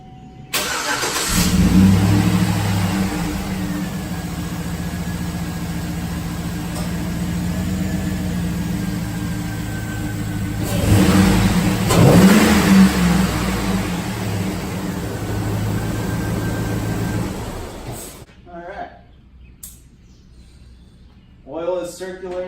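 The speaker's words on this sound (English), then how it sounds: "cap her off and start her up and listen to that rumble of new oil running through the veins of this" Pickup truck engine after an oil change, cranking and starting, then settling into a loud, steady rumbling idle with a couple of brief revs before shutting off, followed by quieter clicks and handling noises.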